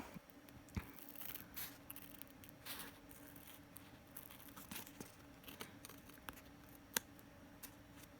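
Scissors snipping through a paper template for cauldron ears, quiet scattered cuts and soft rustles with a few sharper clicks, close and faint.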